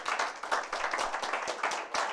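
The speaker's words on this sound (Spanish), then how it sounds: "¿Cuándo le pueden dar un aplauso al Rey de Reyes, al Señor de señores?" A church congregation at a family worship service breaks into steady applause, dense sustained clapping from many hands that holds at an even level for the whole stretch, with no voices above it.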